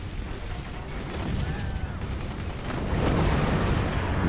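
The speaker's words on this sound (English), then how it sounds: "those missiles are coming for him" Missiles striking a base in a video game, heard as a continuous rumbling barrage of impacts and explosions that swells louder toward the end, with a faint whistling tone midway and no speech.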